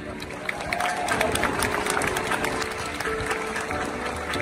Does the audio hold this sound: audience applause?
yes